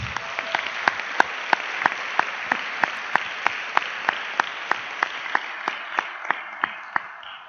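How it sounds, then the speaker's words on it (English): Applause from a conference audience at a general assembly in Wroclaw, with a few sharp individual claps standing out in a steady rhythm over the softer crowd clapping, continuing evenly for several seconds. "Thank you for this round of applause."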